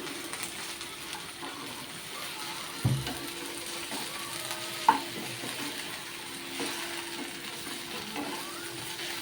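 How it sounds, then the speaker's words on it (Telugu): Okra fries in a pan over a medium flame, a faint, steady sizzle with a few soft stirring knocks, quiet and without speech. "మీడియం ఫ్లేమ్లో పెట్టుకొని వేపుకోవాలి."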